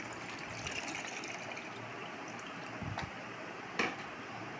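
Tamarind water being strained gives a faint, steady trickle of liquid, with a couple of soft taps near the end.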